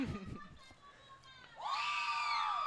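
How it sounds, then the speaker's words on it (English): Cheering erupts from the Cougars sideline at a varsity softball game, a burst of high voices shouting together in the second half after quieter crowd chatter. "Now the cheering is coming from the Cougars sideline"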